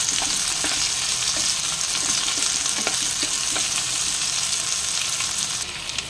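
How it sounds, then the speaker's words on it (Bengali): Potatoes and onions frying in a pan produce a loud, constant hiss of sizzling oil, with faint occasional stirring knocks underneath, steady all the way through and free of speech. "আলু পেঁয়াজটা একটু ভেজে নিই।"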